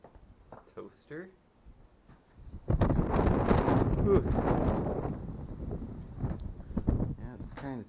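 Loud, steady wind rushing and buffeting a microphone for several seconds inside an abandoned farmhouse, with brief speech before and after it.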